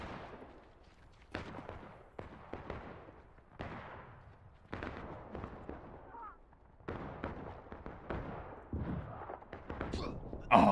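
Musket volleys in the Civil War battle game War of Rights: repeated sharp gunshots, some close and loud, others distant, fire in an irregular rhythm of single cracks and clustered bursts over a noisy battlefield.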